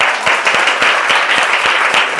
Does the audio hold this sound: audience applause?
yes